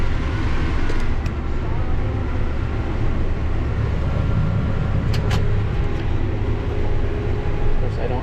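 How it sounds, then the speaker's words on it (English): A truck drives up a rural road during third-cutting grass work, its steady engine rumble and road noise continuous and fairly loud throughout, with brief higher clanks near the end. "There comes the second truck."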